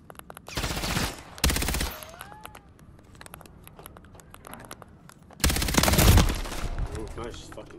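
Gunfire in the video game Call of Duty MW3 bursts out in loud rapid volleys, two short bursts near the start and a longer heavy one later, with quieter game sounds and a voice between them.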